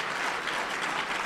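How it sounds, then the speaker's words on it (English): An audience applauds at a lecture hall talk, a brief burst of dense, steady clapping from many hands, with no voices over it. "thank you, whoever you are who applauded"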